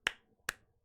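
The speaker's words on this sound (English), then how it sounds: "A little slow clap." Three sharp, isolated hand claps sound close and loud, spaced about half a second apart in a deliberate slow-clap rhythm, with quiet in between.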